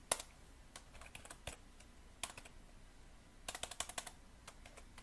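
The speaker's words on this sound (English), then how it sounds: "If I could type, that would be great" Keystrokes on a computer keyboard come in irregular bursts of quiet, close clicks with short pauses between runs, while code is written for an iOS 8 Swift app.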